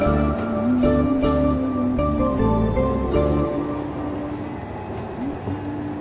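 The Argo Muria passenger train idles at Semarang Tawang station, a steady low engine drone with a sustained tonal hum that fades slightly toward the end, heard up close without talk.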